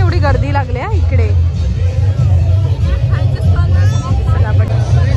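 Dense crowd hubbub fills a busy outdoor Malvani food festival, Kokan Mahotsav in Bhayander East, with many overlapping voices and steady low rumble, loud and continuous throughout, a nearby voice briefly rising above the babble at the start.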